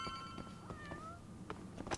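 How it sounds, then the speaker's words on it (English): A cat in a video game meows softly a few times, short rising calls heard faintly over a quiet background. "Meowing."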